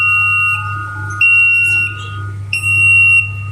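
A single-phase motor control panel's alarm buzzer sounds after a pump trip. It gives repeated loud, steady electronic tones in bursts over a constant low electrical hum.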